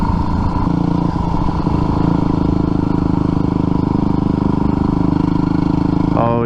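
Dirt bike engine droning steadily while riding, loud and close, with a constant buzzing rumble and wind noise and a brief rev near the end; a rider's voice is heard over it.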